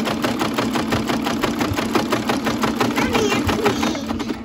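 A sewing machine stitches a lined fleece beanie in a fast even rhythm of close mechanical clatter, with a voice talking over it.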